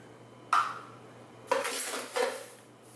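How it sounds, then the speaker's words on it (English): Softened butter being creamed with sugar in a mixing bowl for pear pound cakes: three separate scraping, clinking strokes of a utensil against the bowl, close and moderately loud, each trailing off into quiet, with no voices. "So softened butter goes in. And we're going to cream that with the sugar."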